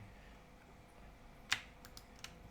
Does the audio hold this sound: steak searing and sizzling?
no